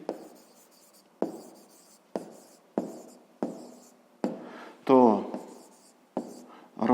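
Digits handwritten by pen on paper during a fifth-grade maths exercise, a series of short scratchy strokes in regular bursts roughly every second, close up and quiet.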